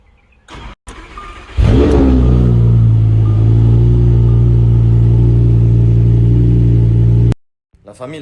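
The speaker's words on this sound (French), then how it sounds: "j'ai démarré la voiture." A car engine fires up and settles into a loud, steady idle close by, a deep sustained rumble after the start that holds for several seconds before cutting off abruptly.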